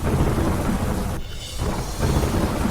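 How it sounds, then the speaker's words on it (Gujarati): Heavy monsoon rain pours down in Lunawada, Mahisagar, a dense continuous roar of rain with rolling thunder that briefly dips before surging back. "મહીસાગરના લુણાવાડામાં ધોધમાર વરસાદ."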